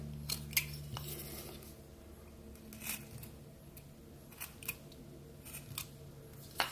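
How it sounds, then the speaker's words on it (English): A knife blade shaving thin slivers from a piece of wood while carving a mouth, a run of short, crisp scraping cuts at an uneven pace, close and dry with little else around. "we'll cut away the wood a little bit more on either side"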